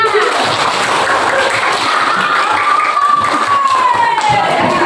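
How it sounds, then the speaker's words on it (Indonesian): Classroom applause for a student presenting his butterfly research, a dense, steady wash of many hands clapping close by and fairly loud, running unbroken for the whole stretch. "Tepuk tangan untuk Hasan"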